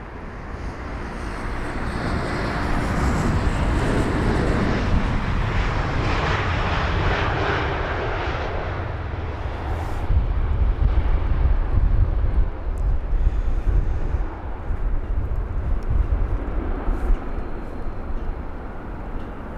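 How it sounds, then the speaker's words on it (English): A fixed-wing airliner touches down at London Heathrow in windy conditions, its engines roaring loud and continuous with a heavy low rumble that swells after touchdown, accompanied by wind buffeting on the microphone. "Look at that stunning touchdown there."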